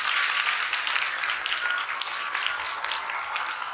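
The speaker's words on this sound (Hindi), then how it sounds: "એના માટે એક જોરદાર તાળી વગાડો" An audience applauds at an introduction session held in Valukad, Gujarat. The clapping is dense and sustained, a steady crackle of many hands that stays loud from start to finish.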